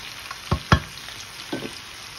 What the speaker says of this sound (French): j'attendais que les courgettes soient bien cuites